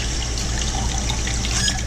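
Soapy water trickles and sloshes steadily as a trumpet is cleaned in it, a soft continuous liquid wash close by with no talking.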